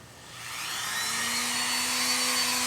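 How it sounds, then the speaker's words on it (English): A Dremel rotary tool with a router attachment spins up and holds a steady high-pitched whine while routing a groove in wood for a booth door, close and continuous, with no speech. "And then you just turn on your Dremel"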